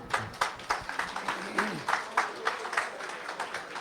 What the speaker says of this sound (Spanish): la recibimos con un fuerte aplauso a ella